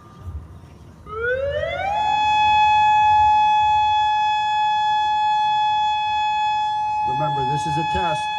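Atlantic City warning system siren test tone, a loud steady wail that rises in pitch and then holds, heard outdoors across the city with faint background noise and a voice speaking near the end.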